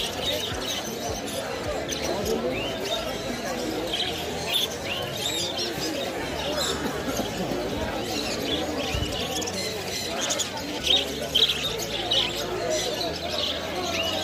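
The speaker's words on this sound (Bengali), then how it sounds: "তো খুব সুন্দর একটা বদ্রি পাখি" Budgerigars at a bird market on Galiff Street in Kolkata: faint scattered chirps sit within dense, continuous market bustle, with voices in the background throughout.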